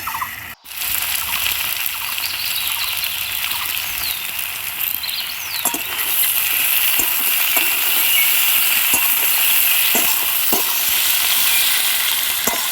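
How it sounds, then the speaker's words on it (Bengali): Onion, potato and tomato fry loudly in a pan with a dense, continuous close sizzle, broken by occasional scraping stirs, and no voices. "টমেটোটা দেওয়ার পরেও মিনিট 2 মতো ভেজে নিয়েছি"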